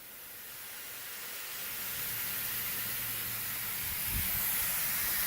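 Compressed air hissing from a coolant nozzle on a G0704 CNC mill, a steady broadband rush that grows louder as the valve opens, with a brief low thump near the end.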